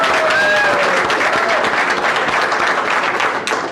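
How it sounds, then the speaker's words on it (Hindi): Steady, loud applause from a crowd at a business meeting, dense clapping sustained throughout and tapering slightly at the end. "ताली बजा दीजिए सबके लिए"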